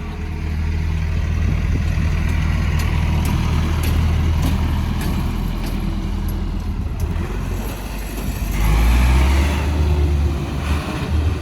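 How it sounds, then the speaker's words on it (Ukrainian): A Claas Dominator 48 Spezial combine harvester's engine idles smoothly and evenly nearby, a loud, steady low rumble with a brief swell in revs toward the end, heard alone. "комбайн працює, точніше двигун ідеально рівно"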